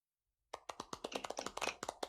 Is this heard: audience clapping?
yes